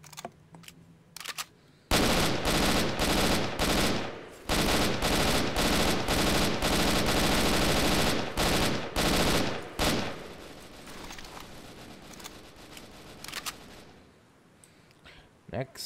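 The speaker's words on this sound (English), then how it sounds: "Next is the PPSH. A gun I like to see in mini games." A PPSH submachine gun fires in Garry's Mod, long loud full-auto bursts with rapid continuous shots, broken by short pauses and ending in scattered single shots, with a voice talking faintly.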